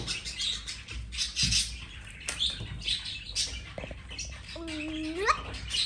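A pet bird chirps and whistles in short bursts, ending in a clear rising whistle, while people talk indoors nearby.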